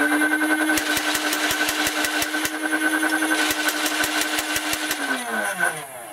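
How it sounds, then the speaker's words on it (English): An X-Shot Insanity Ragefire toy blaster runs with a loud motor whir while darts fire from its chain in rapid, evenly spaced clicks, two quick series, before the motor winds down. "is going to start launching darts out of the chain"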